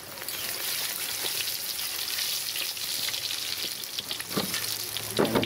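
Red chilies frying in oil for a street-food chili pickle, a steady dense crackling sizzle running throughout at close range, with a few louder spits near the end.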